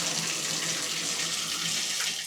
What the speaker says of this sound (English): that one should have more water coming out of it than it has.